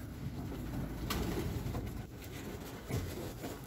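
Ringed pigeons coo softly at a large breeding loft, low murmuring calls rising and falling steadily over a constant background hum, with a few brief knocks and flutters.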